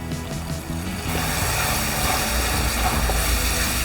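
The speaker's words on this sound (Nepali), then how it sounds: "थोरै पानी राखेर भुटौँ।" Masala of ginger, garlic, cumin, coriander and chilli powder fries in a pan with a little water, a steady hiss and sizzle that swells louder after the first second and carries on evenly.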